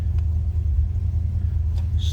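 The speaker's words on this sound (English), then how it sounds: "Car starts easily. That was a cold start, FYI." A 1957 Chevrolet Bel Air four-door sedan with a 283 V8 idles after a cold start, a low steady rumble close by with a couple of faint clicks over it.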